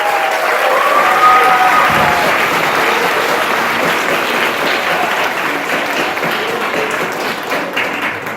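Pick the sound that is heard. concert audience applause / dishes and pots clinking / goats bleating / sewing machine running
concert audience applause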